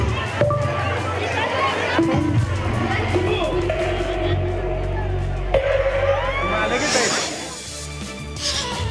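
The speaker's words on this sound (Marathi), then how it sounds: "महिलांनी या उत्सवाला मोठी गर्दी केली होती." Women crowding a Rangpanchami festival in Kolhapur, with dense chatter, shouts and whoops, and scattered cries rising over a steady murmur of voices.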